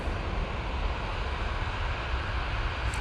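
A Ryanair Boeing 737-800 airliner at Manchester Airport gives a steady, broad engine roar at a moderate distance, continuous and unbroken with no talking.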